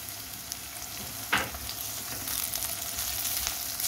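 Garlic hits a hot pan for a chicken and liver dish and sizzles steadily, with a sharp burst of crackling as it goes in, followed by constant frying hiss.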